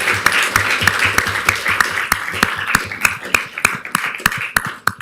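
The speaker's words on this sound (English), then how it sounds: "give him a round of applause" Sparse, uneven clapping rings out at a Reno city council meeting, with a few hands producing distinct sharp claps that thin out over about five seconds. A low murmur of voices runs faintly underneath.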